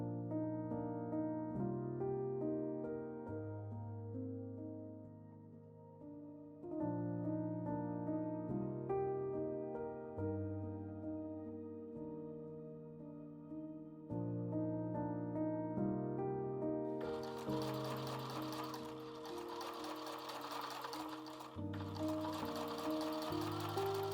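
A sewing machine stitches fabric pieces of a triangular-panel shoulder bag, a fast buzzing run heard mostly near the end beneath steady background music.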